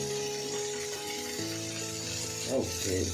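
Chopped onions, three of them, fry in a pan for a chicken curry, giving a close steady sizzle with faint stirring and scraping noises layered over it.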